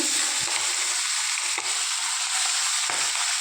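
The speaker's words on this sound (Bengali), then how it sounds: "কড়াই তেল গরম হয়ে গিয়েছে মাছও দিয়ে দিচ্ছি" Fish coated in salt, turmeric and oil fries in hot oil in a wok, giving a loud, close, continuous sizzle with a few soft knocks and scrapes.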